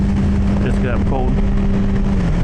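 A cold Yamaha R6 sport motorcycle engine that has not yet warmed up drones low and steady beneath wind and rain noise, while a rider talks over it.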